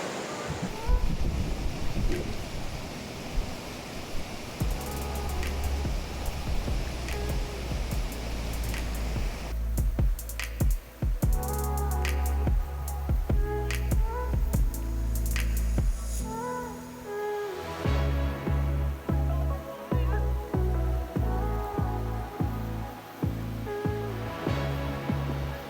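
Knee-deep Himalayan mountain stream on the Beas Kund trek, with a steady rush of flowing water, wind buffeting the microphone, and splashing and sloshing steps of someone wading across, close and uneven.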